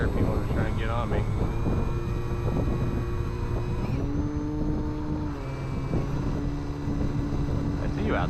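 A de Havilland Beaver airplane drones steadily on the runway, with its engine hum holding a constant low pitch that shifts slightly midway, while a voice talks over the engine noise throughout.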